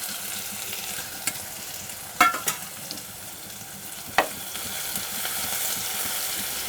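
Ginger garlic paste frying with curry leaves in a pan for a Gujarati drumstick masala curry, a steady soft sizzle broken by a few sharp spoon scrapes and clinks, with no talking.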